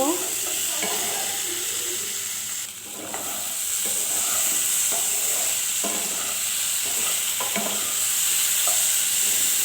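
Papaya and chickpeas sautéed with turmeric, salt and green chili in a pan, giving a steady loud hissing sizzle with soft intermittent scrapes from stirring, close by and without talk.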